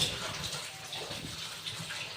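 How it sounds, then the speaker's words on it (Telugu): Fresh water poured onto dal in a pressure cooker, a steady close splashing gush that runs evenly through the short stretch without any voices. "కడిగేసి ఫ్రెష్ వాటర్ పోస్తున్నాను. పప్పులోకి వాటర్ పోసి"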